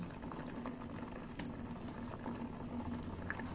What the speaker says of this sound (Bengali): আর একটু ফুটবে।